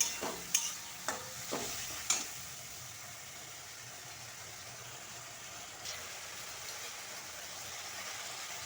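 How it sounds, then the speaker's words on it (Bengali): Spice masala paste for a broccoli curry sautés in a pan: a few sharp spoon clicks and scrapes at the start, then a steady, fairly faint sizzling hiss carrying on alone. "এবার মশলাটাকে সুন্দরভাবে কষবো।"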